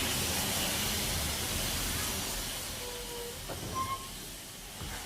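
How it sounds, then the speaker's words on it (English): Steam train from a farmyard story slows into the station, a broad steady hiss of steam and rumbling carriages gradually easing off, with a few faint squeaks and knocks of braking wheels near the end. "It stops at the station."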